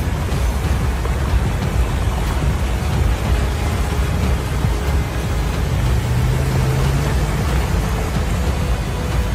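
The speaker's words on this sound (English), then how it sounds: "relentless rain pours forth, a tempest unleashed upon Las Vegas" Heavy monsoon rainstorm pouring over Las Vegas, a loud, continuous wash of rain with a deep rumbling undertone, steady and unbroken with no voices.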